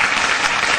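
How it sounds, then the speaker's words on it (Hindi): Studio audience at a youth talk show clapping for a guest named Kapil: a brief, loud burst of crowd clapping that is already underway and cut off short. "इसके लिए तालियां बनती हैं।"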